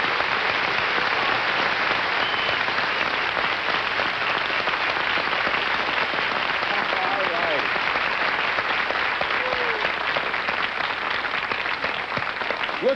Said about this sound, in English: Look who's clapping here.